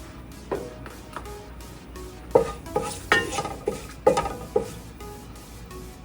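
Bay leaves hit hot oil in a heated pot for chicken biryani, a soft sizzle under intermittent stirring scrapes and metallic taps on the pot, close and moderate.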